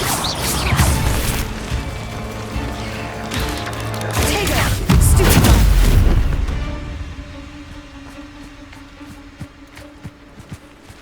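Confringo blasting spells exploding in Hogwarts Legacy: a chain of loud, crashing booms with the heaviest blast near the middle, then a quieter tail of scattered small impacts.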